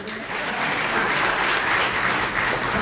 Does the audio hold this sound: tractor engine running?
no